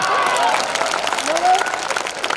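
A kavi sammelan crowd in Sehore applauds a poetry performer, steady clapping and crowd noise with the performer's voice heard over it throughout.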